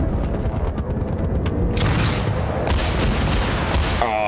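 Gunfire erupts in a Battlefield 1943 match, with sharp repeated shots and booming bursts crowding the second half over a rumbling battlefield backdrop, no speech.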